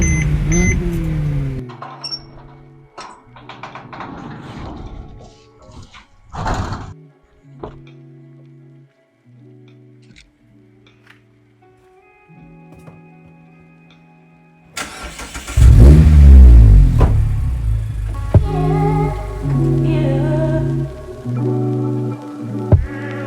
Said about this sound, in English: I'm going to move the car into the garage